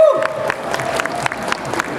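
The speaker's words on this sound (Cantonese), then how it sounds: "聽聽你哋支持我哋參賽者嘅一啲鼓勵性嘅掌聲" A live crowd at an outdoor stage contest event claps in steady, moderately loud applause for competing teams, with scattered cheers mixed into the continuous patter.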